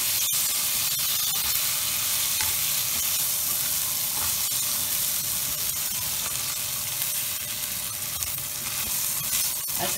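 Rice is stirred together with a stuffing mixture in a pot for mock pigeon, giving a steady, close sizzle with soft scraping throughout and no talking.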